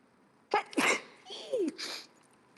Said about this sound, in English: One more sneeze.